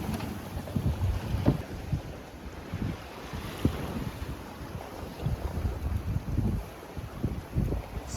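A 24-foot sailboat moves quickly through the water in winter wind, with a steady rush of water along the hull, gusting wind buffeting the microphone and occasional slaps of waves, all close and continuous with no voices.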